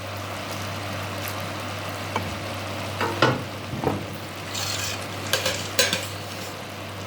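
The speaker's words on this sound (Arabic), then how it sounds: "ننزل كده بشويه من الصوص بتاعنا" Sauce poured into a pot of meat biryani, with a soft wet sizzle and a few scraping stirs and clinks of a utensil against the pot, steady and close with no talking.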